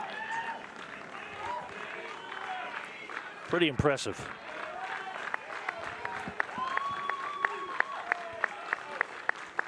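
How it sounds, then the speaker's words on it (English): A college baseball championship crowd claps and cheers in a modest, scattered way under a commentator's voice, with sharper individual claps toward the end. "Henderson crowd coming to life just a bit here."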